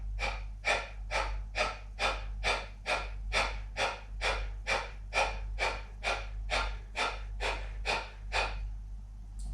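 During a yoga exercise, a person breathes in an even, rhythmic series of about twenty sharp, forceful breaths, close and clear over a low steady hum, then stops near the end.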